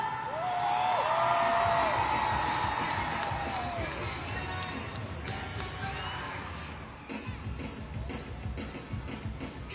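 A Monster Jam arena crowd roars and whoops, swelling loud with high shouts and cheers early on, then easing into a broad, steady rumble of cheering across the stands.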